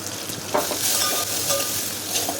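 Round-cut onions fry with green chillies, curry leaves and turmeric in a pan for horse gram rasam, a loud continuous sizzle broken by scraping stirs, close up and without talk.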